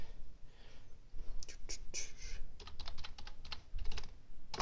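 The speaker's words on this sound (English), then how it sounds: "Let me go ahead and put my password in." Password keys tapped on an HP Slate 21 keyboard, a short run of quick, close, crisp clicks in uneven bursts over a quiet room.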